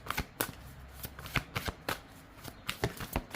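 Tarot cards being shuffled and drawn, a run of quick papery flicks and soft slaps in an uneven rhythm, close and clear, with no talking over them.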